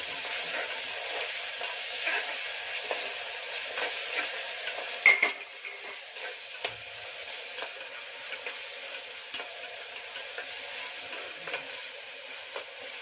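A spoon stirs khichdi in a pot, producing soft repeated scrapes and light clicks against the metal over a faint, steady sizzle, close and quiet with no voices.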